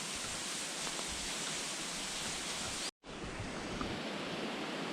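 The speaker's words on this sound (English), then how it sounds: "You can hear all these waterfalls from the trails." Waterfalls heard from a forest trail on the Devils Rock Trail, a constant broad rushing roar with no voices, briefly cut by a sharp dropout near the middle before the steady wash resumes.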